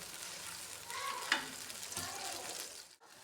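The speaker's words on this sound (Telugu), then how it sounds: "టమాటా పేస్టు బాగా నూనెలా మగ్గాలి అప్పుడే దీని పచ్చివాసన పోతుంది" Tomato paste frying in oil for chicken curry makes a dense, close sizzle with stirring scrapes, steady for a few seconds before cutting off abruptly.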